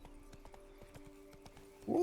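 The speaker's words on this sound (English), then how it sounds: "Sometimes I'm not allowed to gallop while on Roach, and I can't really tell what's wrong." Hooves of a horse trotting in the Witcher 3 video game, a steady repeated clip-clop rhythm at moderate level over a low steady tone, ending in a brief louder burst.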